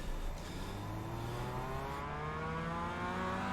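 Mazda MX-5 production race car on Oran Park circuit in a racing game, engine note climbing steadily as it accelerates, continuous and fairly close with no talking.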